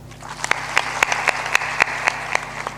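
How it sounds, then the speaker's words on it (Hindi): Sparse clapping from an audience at a Hindi spiritual satsang discourse, a handful of sharp claps standing out over a steady hum and low murmur, fairly thin and spread out. "ताली बजा दो"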